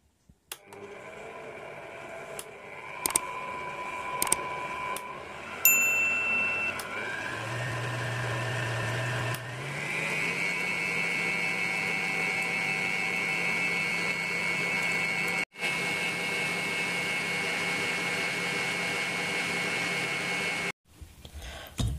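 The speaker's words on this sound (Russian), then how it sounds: "И включаем на взбивание. Взбивать будем до устойчивой пены." Electric hand mixer whipping eggs with sugar and vanilla for a sponge cake roll batter, a steady loud motor whine that shifts speed a few times and runs continuously before cutting off.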